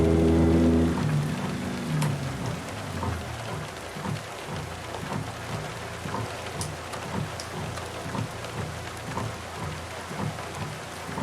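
Steady rain patters in American Truck Simulator while a Peterbilt 389 glider truck drives, a dense, even hiss with a low rumbling undertone that continues throughout.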